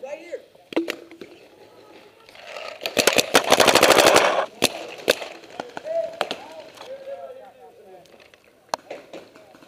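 Paintball guns fire outdoors in a World War-themed paintball game, scattered single pops building to a rapid, loud burst of shots, with players shouting and talking throughout.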